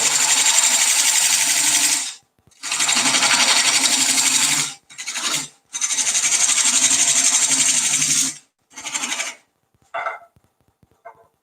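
A lathe gouge cuts into a green wood bowl blank in repeated passes, a loud scraping, hissing shear that starts and stops in bursts of a few seconds with short pauses between cuts.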